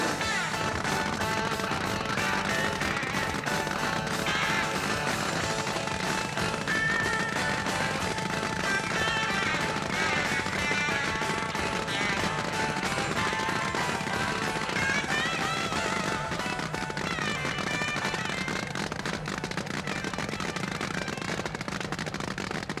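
A 4,000-horsepower nitromethane-burning Hemi engine in a drag-racing hydroplane boat at Firebird International Raceway crackles with a dense, rapid, continuous popping rumble that holds steady and loud.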